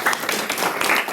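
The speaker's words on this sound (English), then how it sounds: "I think you should give a clap for her." Audience at an IIT Madras admissions expert event gives a brief round of applause for a student, a steady dense patter of many hands clapping at moderate loudness for about a second.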